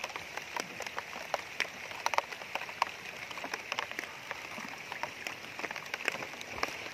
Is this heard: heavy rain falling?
yes